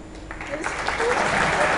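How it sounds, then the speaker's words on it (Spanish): An audience at a barefoot mentalist's stage show breaks into applause. It starts as scattered claps, then builds within a second into a full, steady round of clapping. "Yo hago así, todo el mundo aplaude."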